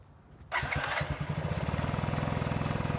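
Motorcycle engine with a dirty, clogged air filter cranking and catching after a quiet moment, then settling into a loud, close, rapid rhythmic idle with steady pulsing beats.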